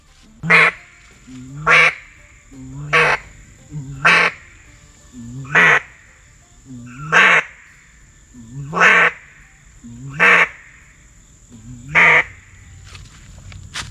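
A duck call blown up close imitates a simple quack, nine evenly spaced, nasal quacks with short pauses between them over a faint background hum.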